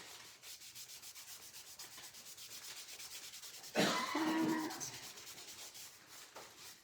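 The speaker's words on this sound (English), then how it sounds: "Wax by Waverly Chalk Paint. And I am rubbing it on with a wipe." Waverly chalk paint wax being rubbed onto lasered wood with a wipe, a steady scratchy swishing of repeated strokes that grows louder and rougher midway, close up with no talking.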